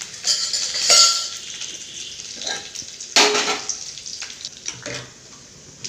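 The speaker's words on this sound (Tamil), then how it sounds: "கடுகு கடுகு நல்லா வெடிச்சிட்டு" Sharp crackles and pops of mustard seeds sizzling in hot oil, bursting irregularly at close range with a brief clatter of utensils.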